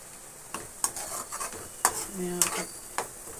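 Curry fries in a pan while a utensil stirs it, giving a soft sizzle punctuated by several sharp metallic scrapes and clinks of spoon against pan at irregular intervals, close and moderately quiet.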